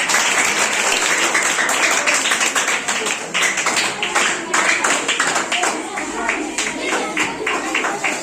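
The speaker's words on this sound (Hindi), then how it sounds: "चलिए तालियां इस ग्रुप के लिए" A classroom of students claps for a student group, a fast, loud patter of many hands that fills the room and continues throughout, with voices mixed in beneath it.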